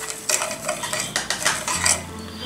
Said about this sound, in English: Mix it until the sugar dissolves.